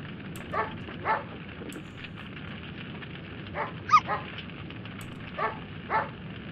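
Shiba dog barking in the indie video game Pom Gets Wifi, several short separate barks spread out at moderate volume over a steady background hum.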